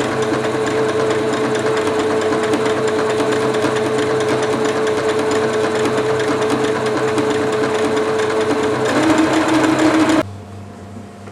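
Sewing machine running steadily as it zigzag-stitches along the edge of fabric for a stick horse, a continuous close mechanical whir that rises briefly near the end, then stops abruptly.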